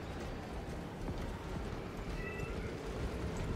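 A house cat meows faintly over a steady wash of background noise, brief and distant.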